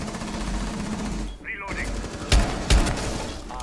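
Automatic gunfire from the shooter video game Rainbow Six Siege, a steady loud rattle of rapid shots filling the clip, with two sharper booming reports near the end and game sounds around it.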